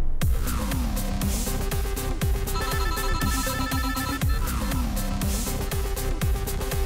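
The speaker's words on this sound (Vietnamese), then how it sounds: "Anh có điện thoại chờ anh chút." Phone ringtone playing loud and close, a repeating melodic chime pattern with sharp plucked notes cycling several times without a break, no voices.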